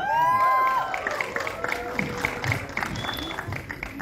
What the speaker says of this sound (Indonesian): boleh sekali lagi tepuk tangannya ya teman-teman sekalian